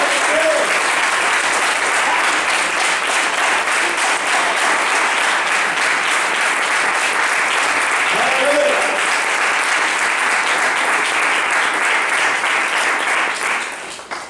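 Sustained applause from a church congregation, a dense continuous wash of clapping filling the room at steady loudness for the whole stretch and thinning slightly at the end, with brief voices surfacing underneath.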